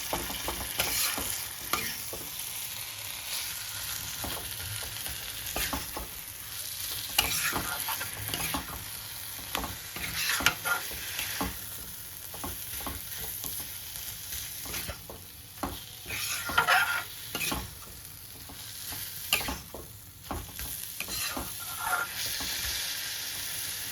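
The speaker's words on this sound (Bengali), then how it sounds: "মূলো থেকে সব ভিজিয়ে জল বের করে এবার মশলার সাথে ভালো করে মিশিয়ে নেব।" Grated radish for a Bengali mulor ghonto is stirred and tossed with spices in a hot pan, giving a loud, busy sizzle broken by repeated scraping strokes of the spatula, with no voices.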